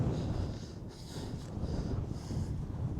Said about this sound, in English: It's still a bit windy, but it's not bad as up there.